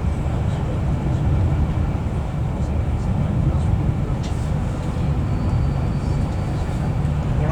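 Interior rumble of a Virgin Trains Class 390 pulling out of Coventry, a steady low drone with faint rattles that holds evenly at a constant level throughout.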